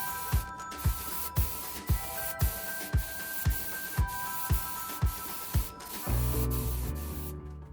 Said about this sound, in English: so that it will spray water-based paint